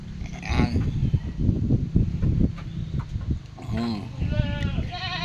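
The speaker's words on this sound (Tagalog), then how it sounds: "Yan yung makulit na kambing." A goat meant for caldereta bleats on a farm, giving a couple of wavering, nasal cries near the end amid rustling and nearby people talking.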